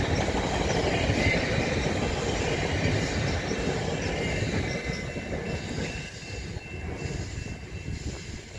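A passing train gives a loud, continuous rumble and rush of rolling wagons with faint wheel squeal, steady at first and then easing slightly as it moves on, with no talk over it.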